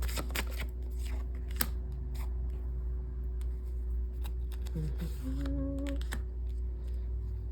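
Tarot cards being handled, shuffled and drawn close up, soft papery flicks and slides in a quiet room, with no voices.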